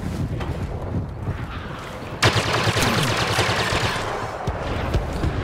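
Rapid automatic fire from a blaster in Star Wars Battlefront, a sustained burst starting abruptly and running loud over steady background game noise with wind-like rushing.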